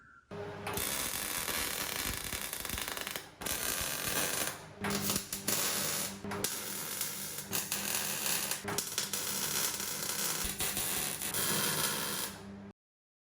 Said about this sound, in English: So let's weld these in.